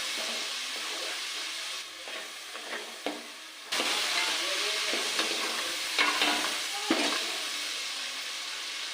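Ginger paste and tomatoes fry in a pan with a steady hissing sizzle, broken by several clattering stirs of a spoon against the pan, heard close and alone.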